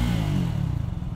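A Triumph Speed 400 motorcycle rumbles close by, a steady, low, throbbing exhaust note held briefly without any talking.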